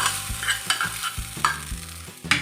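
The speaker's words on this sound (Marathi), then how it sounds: "आपल्याला हे सर्व मिक्स करायचं आहे" A spoon stirs jowar cheese appe batter mixed with tempering, making close, rhythmic wet scraping strokes about every half second with no talking.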